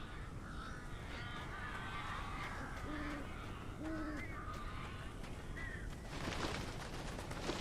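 Crows cawing in the video game Alan Wake, several harsh caws scattered over a steady wash of background noise, moderately close, no talking.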